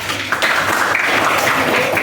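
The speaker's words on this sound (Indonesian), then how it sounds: "Oke, tepuk tangan dulu untuk Iwan." A classroom claps for a student, a short burst of steady, fairly close applause from a group of pupils lasting a couple of seconds.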